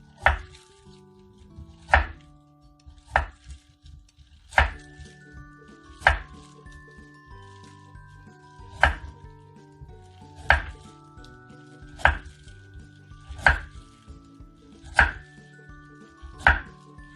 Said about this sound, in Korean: 제가 이제 당근부터 야채를 썰어 보겠습니다